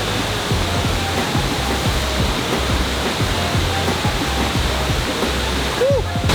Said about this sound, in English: This is just one of a handful of waterfalls here at Havasupai